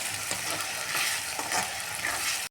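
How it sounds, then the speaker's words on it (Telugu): Sliced onions with ginger garlic paste fry in a hot pan for mutton fry, a steady dense sizzle with scraping stirring strokes throughout, loud and close with no talk. "ఇప్పుడు 1 table spoon ginger garlic paste add చేసుకొని ఈ పేస్ట్ ఈ ఆనియన్స్ మంచిగా ఫ్రై అయ్యే విధంగా ఫ్రై చేసుకుందాం."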